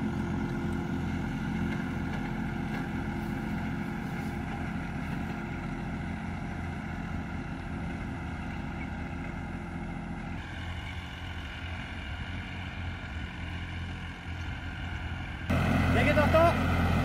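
A tractor drives back across a field during casting-method ploughing, its engine a steady, continuous drone that swells louder near the end.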